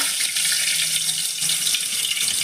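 Mustard seeds and curry leaves drop into hot oil for Khandeshi kadhi, producing a loud, steady, close sizzling hiss that runs unbroken through the whole moment with no voices.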